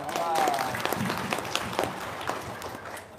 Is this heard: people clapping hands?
yes